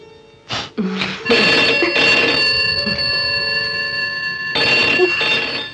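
A telephone rings loudly nearby in long bell-like trills, pausing briefly before ringing again.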